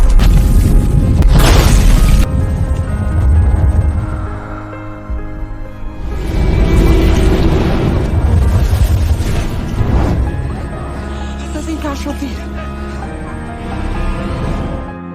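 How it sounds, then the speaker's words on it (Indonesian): Several heavy bomb explosions boom loudly in succession in a war film, each a deep rumbling blast with a long low tail, separated by brief lulls. "seketika terjadilah ledakan bom yang sangat besar"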